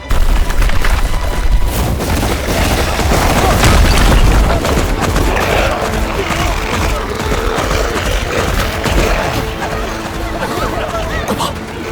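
Animated sci-fi battle in which a US military squad fires on a monster to cover a retreating survey team: dense, continuous bursts of gunfire and booming impacts fill the scene, loud and close, with shouting voices mixed in.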